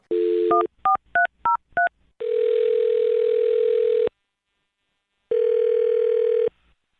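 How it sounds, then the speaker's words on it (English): Landline telephone dialing a number: a short dial tone, then a quick run of five DTMF keypad beeps, followed by two long steady ringback-style tones separated by silence, loud and close with no talking. "I'm going to dial her phone number right now and see if we can get her on the phone"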